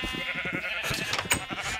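Minecraft sheep bleat in a cluster of short, wavering calls, several overlapping in quick succession at close range.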